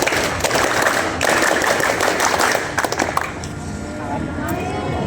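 A group of scouts at a school Pramuka camp perform the rhythmic Pramuka clap in unison, loud dense bursts of hand claps filling the space with crowd noise throughout.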